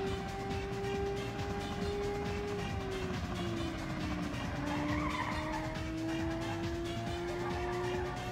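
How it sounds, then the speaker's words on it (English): A car in the PS1 racing game Ridge Racer fishtails with a sustained, wavering tire squeal over a steady engine drone, loud and continuous throughout. "But my car is fishtailing."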